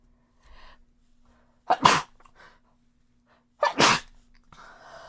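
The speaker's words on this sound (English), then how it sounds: "I got to sneeze, unfortunately" Two loud, sharp sneezes about two seconds apart, each preceded by a brief inhale, close to the microphone in an otherwise quiet room.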